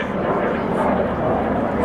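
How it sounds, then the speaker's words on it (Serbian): A military jet manoeuvres during a Serbian air force exercise, a loud, steady engine roar filling the whole moment, with narration over it. "Nakon dejstva pilot uvodi avion u manevar"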